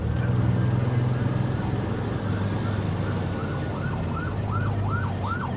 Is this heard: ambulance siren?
yes